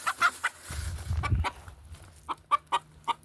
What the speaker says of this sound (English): I had 3 chickens escape today